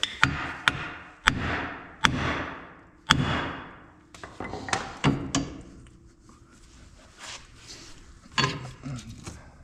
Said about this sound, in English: we're gonna go ahead and take our BFH again, and we're gonna hit on the knuckle again, and hopefully this ball joint will come free